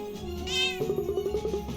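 A cartoon cat in the video game Cat Quest lets out a short, bright meow, followed by quick pulsing game tones over background music.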